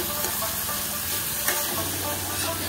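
Bottle gourd greens curry is stirred in a hot pan, a steady close sizzle and hiss with light scraping and a small clink near the middle, without talk.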